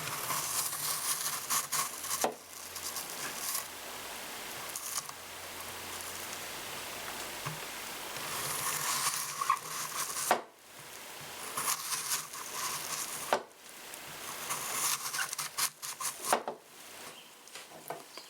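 A sharpened Tracker knife slices through an apple in repeated cuts, producing crisp, wet crunching strokes separated by short pauses, fairly quiet and close.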